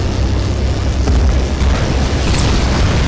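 Two gunshots ring out in a Skibidi Toilet animation, loud booming bursts over a dense low rumble of battle noise with no clear pause between them.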